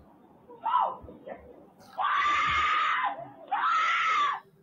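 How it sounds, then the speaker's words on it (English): A woman screaming in her garage: one short cry, then two long, loud, sustained shrieks with a brief gap between them, against a quiet background with no talk. "Her screams are enough to make your heart stop."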